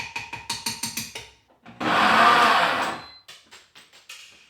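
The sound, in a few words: blender blending cooked brown rice into paste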